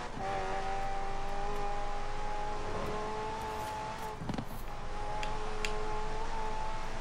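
Car engine in Forza Horizon 4 during a Cross Country event on a coastal route, holding a steady, sustained drone with slight pitch shifts and a brief rough burst midway, loud and continuous.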